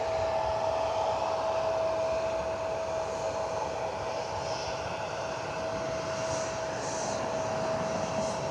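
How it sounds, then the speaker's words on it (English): A CRJ regional jet sounds as a steady, fairly loud broadband roar of jet engines, holding at an even level throughout with no talking. "Here's a CRJ."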